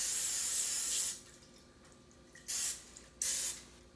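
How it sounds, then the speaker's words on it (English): Cooking spray hisses into a baking pan lined with parchment for a pumpkin roll: one long spray, then two short bursts, close and loud with quiet gaps between. "I'm going to go ahead and spray it because this will help the parchment paper stick to the bottom of your pan"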